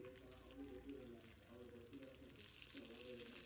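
Mustard seeds and curry leaves splutter and sizzle in hot oil in a clay pot, a steady, fairly quiet crackle with scattered pops throughout.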